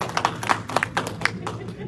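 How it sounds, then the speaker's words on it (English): Sparse, uneven claps ring out from a small community night audience, a handful of distinct hand claps over about two seconds, with speech faintly present. "So give a round of applause to Angela."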